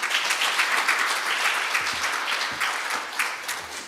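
An audience applauds after a talk on air-quality policy at a Chungcheongnam-do carbon neutrality conference, with dense, sustained clapping filling the room from start to finish and no clear speech.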